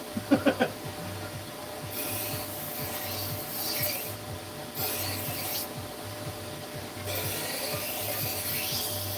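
A knife blade is sharpened on a belt grinder with Trizac belts, worked carefully along its recurve: a steady abrasive rasp in several long passes of a few seconds each, broken by short pauses, after a few sharp knocks at the start.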